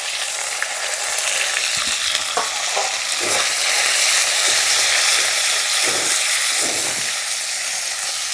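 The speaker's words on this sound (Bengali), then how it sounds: "কড়াইটা গরম হয়ে গেছে, এইভাবে কিন্তু মশলাটা কষিয়ে নেব।" Spice paste of ginger-green chilli paste, chopped tomato, cumin paste and cashew paste frying in a hot wok, a steady loud sizzle with occasional scraping stirs, no talking.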